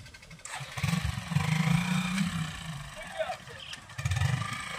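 A motorcycle engine on a broken-down embankment road at Wahidtola, Dharampur area of Malda, revving in two low rumbling bursts as the bike struggles to get through, with voices nearby.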